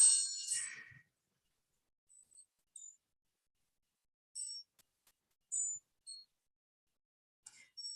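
Sparse, delicate chime tones ring out in near silence: a brighter shimmering cluster at the start, then isolated faint high pings scattered irregularly, each fading quickly, with no talking.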